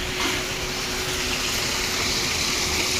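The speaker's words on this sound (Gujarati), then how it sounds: "અમારે છે બોરેથી પાણી આવે છે આજ પાંચ વાગ્યાનું પાણી ચાલુ છે" Continuous rushing gush of borewell water pouring into a village bathing tank, steady and fairly loud, with a faint pump-like hum underneath and no speech.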